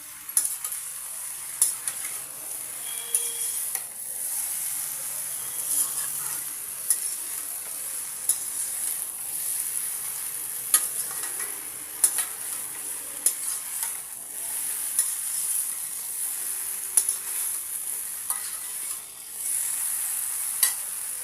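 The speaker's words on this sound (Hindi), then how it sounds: "बैंगन आलू फ्राई हो चुके हैं।" Aubergine and unpeeled potato pieces fry in a pan with a soft, steady sizzle, broken by regular light scrapes and taps of stirring, heard fairly quietly with no talk.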